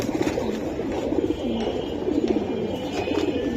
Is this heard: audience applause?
no